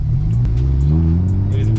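BMW 335i N54 with a twin-disc organic clutch pulling away uphill in first gear from stop-and-go traffic, a loud, close, low engine drone that rises gently as throttle is added, with brief clicks above it.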